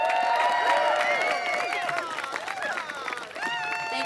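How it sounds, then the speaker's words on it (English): At a climate march rally in Austin, an outdoor crowd claps and cheers, with whistles and shouting voices rising and falling over a few seconds of applause. "Give a round of applause for Brandi Clark Burton."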